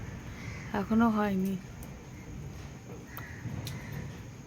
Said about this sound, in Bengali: দেখো কাক সবাই ডাকছে